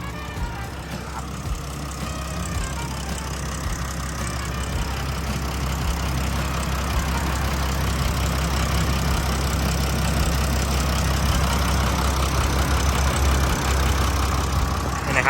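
The diesel engine of a Sakai T2 pneumatic-tyre road roller idles steadily throughout, a low rumbling drone with a constant mechanical chatter, close and even in level.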